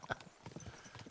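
A short run of horse hooves striking the ground in the game Kingdom Come: Deliverance II, a few quick, close clops in an uneven trot rhythm.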